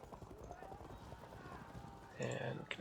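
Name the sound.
horses moving in video game Field of Glory II Medieval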